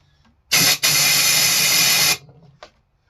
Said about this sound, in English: every time I spray that, a little bit of alcohol comes out